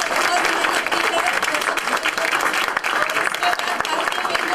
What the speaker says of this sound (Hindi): एक बार जोर से तालियां हो जाए बच्चों की